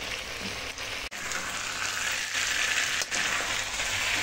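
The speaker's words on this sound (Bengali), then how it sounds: "বেশ কিছুক্ষণ নাড়া দিয়ে দেবো" Pumpkin chhakka cooked with a katla fish head and a little sugar, stirred in a pan, gives off a dense, even sizzle with a couple of brief knocks from the stirring. No voices are heard.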